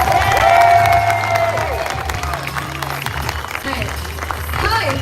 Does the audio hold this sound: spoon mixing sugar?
no